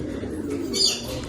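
Pigeons in a loft give a brief, soft, low cooing against a steady background murmur, with a faint higher flutter near the end.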